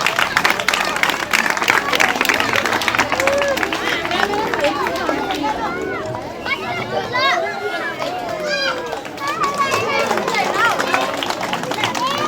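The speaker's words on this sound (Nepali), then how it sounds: "सबै भाइ बहिनीहरूले ताली बजाइदिनका लागि म अनुरोध गर्दछु" Students at a school farewell for a staff member applaud in a sustained, dense burst of clapping, with crowd chatter and raised voices mixed throughout.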